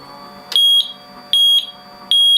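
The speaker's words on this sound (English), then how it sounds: "That's the alarm" A water chiller alarm on an 80W laser setup sounds three loud, high, piercing beeps, evenly spaced about three-quarters of a second apart, each lasting roughly a quarter second, with a low hum beneath.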